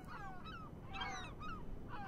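Herring and black-backed gulls call in a breeding colony on a coastal island off New England, sounding as a run of honking, descending cries over a steady low rumble of wind or surf.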